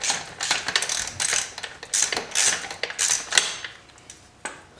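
A wrench loosens the nut on the main bottom engine-mount bolt of a Yamaha YZ250 motocross bike, giving a run of close, quick metallic ratcheting clicks in uneven bursts with brief pauses, no voices.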